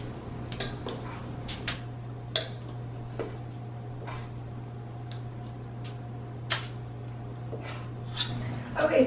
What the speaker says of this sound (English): I'm just gonna use 2 kitchen spoons to scoop our cookie dough out onto the trays